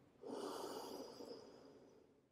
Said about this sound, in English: Just take 4 deep grounding breaths here.